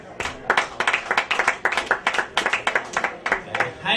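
Audience at a Crown Point comedy show gives scattered, uneven clapping, a small crowd's applause of sharp, irregular hand claps continuing for several seconds.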